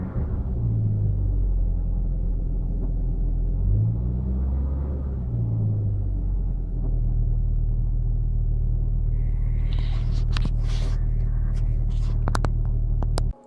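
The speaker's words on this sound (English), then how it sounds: "Seems to rev a lot different now too." A car engine after a crank position sensor replacement rumbles loudly and close, rising and falling through a few revs, then settles into a steady idle before some clatter and an abrupt stop.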